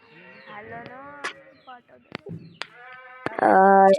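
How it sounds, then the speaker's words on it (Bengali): Goats on a farm bleat in a series of short wavering cries, some distant and thin, ending in one loud, close, drawn-out bleat, with a few faint knocks between calls. "আর এইদিকে দেখুন, কিছু ছাগল ঘোরাঘুরি করছে।"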